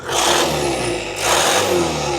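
A Volvo XC60 engine revs up twice in quick succession, a loud rising roar each time before settling back.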